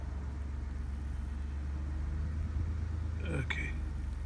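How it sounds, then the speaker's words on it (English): A car engine runs steadily inside the vehicle as a low, constant rumble under hushed, whispery voices. A brief sharp squeak sounds near the end. "I think the engine was running a little heavier."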